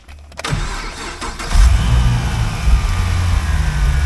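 A 2013 Camaro SS with a cracked coil and a misfire cranks briefly, catches and settles into a loud, deep idle with uneven low rumbling pulses, heard close and alone.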